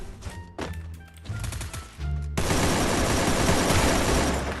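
Rapid bursts of automatic gunfire from a battle royale video game, with a short burst first and then a loud, sustained stretch of dense, continuous firing that fills the second half.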